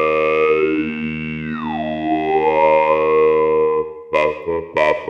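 Cantor Digitalis singing synthesizer played on a Soundplane, holding one sustained, buzzy synthetic voice whose vowel timbre glides and shifts, loud and alone, ending in a few short breathy bursts.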